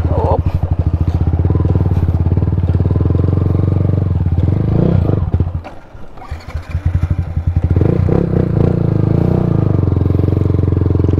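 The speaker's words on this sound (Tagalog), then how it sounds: "nag-i-slide yung motor." A motorcycle engine drones loudly and steadily nearby on a muddy road, dipping briefly as the bike slows and clatters over rough ground, then picking back up.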